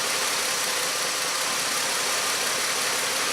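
A 2005 Chrysler Sebring engine idles steadily up close with a misfire from a bad ignition coil, giving a continuous hum with slight uneven roughness and no talking.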